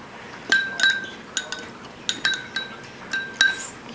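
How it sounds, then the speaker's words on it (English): A fork clinks against a bowl while it stirs a homemade gelatin snot mixture, giving a scattered series of light, bright taps and scrapes close by, with no voices. "Then use your fork to stir it."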